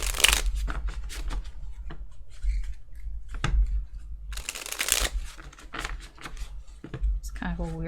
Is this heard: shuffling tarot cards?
yes